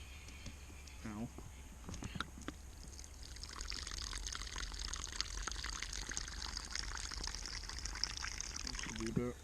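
Water poured from a bottle into a backcountry camping filter, a steady trickling pour running through most of the clip, close and moderately loud with some handling clatter.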